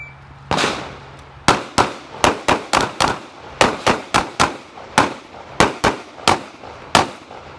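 Handgun rounds fired at targets during an adaptive defensive shooting drill at a Sig Academy summit, about twenty sharp, loud reports in irregular pairs and clusters with short echoing decays, no talking.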